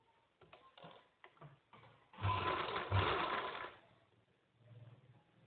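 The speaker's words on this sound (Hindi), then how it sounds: "तो यहाँ तक हम इस पर सिलाई लगा लेंगे।" A sewing machine stitches folded fabric for a flower-style baju sleeve in a boutique, a short steady whir of about a second and a half, set between quieter handling sounds.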